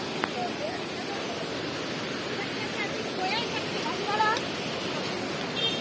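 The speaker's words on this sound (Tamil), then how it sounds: "கீழே அப்படியே தண்ணி எல்லாம் ஓடுது" A hill stream at Valparai rushes downhill in a constant, close, broadband roar of flowing water, with faint bird chirps over it.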